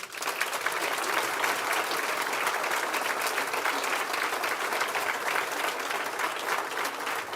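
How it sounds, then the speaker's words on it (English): A conference audience applauds during an opening welcome session, with dense and sustained clapping from a large crowd that holds at an even, loud level throughout. "So let's give Thomas Hill a round of applause."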